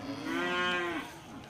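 A Simmental cow lets out a single long, close moo lasting over a second, loud and clear with no talk, at a cattle farm selling young stock.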